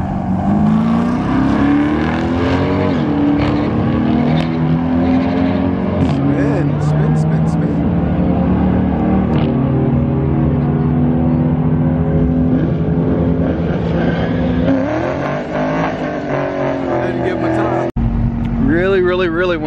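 An Audi S3 8Y sits at a drag strip, its engine a loud, close rumble with shifting revs and drones, while voices talk over it before a sudden cut near the end.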